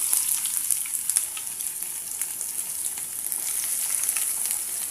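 Chopped onion frying in hot oil with crackling tempering spices for a carrot stir-fry, a steady bright sizzle with scattered pops and light stirring throughout, close and fairly loud, no talking.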